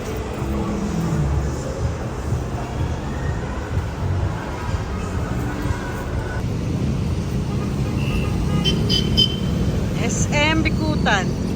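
Heavy road traffic near SM Bicutan, a constant dense roar of vehicles close by with engines rumbling, a few short horn-like tones near the end, and someone talking over it.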